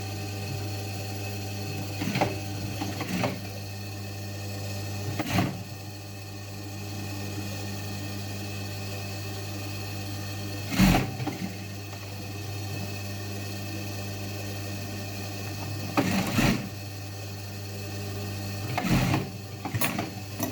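A sewing machine stitches the facing onto the lining of a pair of jeans, running in a steady low hum with several short bursts of faster stitching spread across the stretch.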